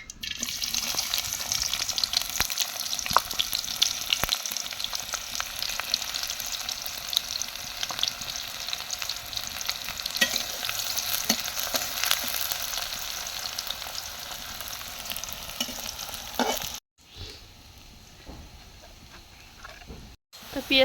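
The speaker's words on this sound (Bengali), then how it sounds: "তো তেলে দিয়ে দিচ্ছে পেঁয়াজ।" Onions frying in oil give a long, even hiss with occasional crackles, fairly close, before cutting to a quieter stretch near the end.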